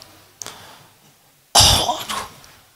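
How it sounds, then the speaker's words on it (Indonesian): A short throat sound, then one deep, heavy cough burst that rattles and trails off, close and loud, with no talking, during a lecture in a mosque. "batuk itu dalam sekali"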